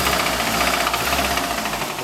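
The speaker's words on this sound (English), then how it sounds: "So if you got an Altima that's knocking like that" A Nissan Altima engine knocks while running up close, a rapid, steady metallic tapping over the engine's drone.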